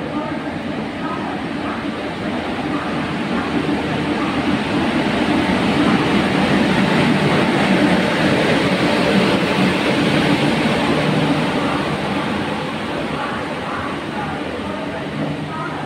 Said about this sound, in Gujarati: પોરબંદર દાદર આ એક્સપ્રેસ છે.